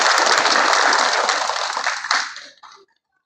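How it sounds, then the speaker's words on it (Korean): Dense, loud applause from a crowd at a labor-student solidarity rally at Seoul National University rolls on steadily, then thins out and dies away to silence, with a few last claps trailing off. "박수 부탁드립니다"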